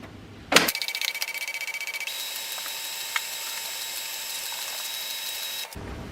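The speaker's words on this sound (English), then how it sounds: "Power on the printer by pressing on the power button" An HP LaserJet Pro 3003dw printer powers up with a sharp click, then a steady mechanical whir and ratcheting hum that runs for about five seconds before stopping abruptly.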